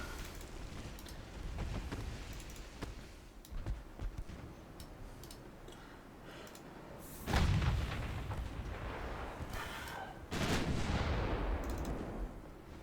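Heavy 5-inch naval guns from a fleet of destroyers fire in a video game, a string of deep booms over steady rumble, with two large blasts standing out near the end.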